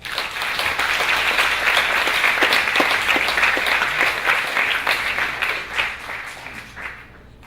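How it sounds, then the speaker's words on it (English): An audience at a women writers' media forum applauds in a full, steady round of clapping that stays loud for several seconds, then fades out toward the end. "let us welcome our speakers with a round of applause"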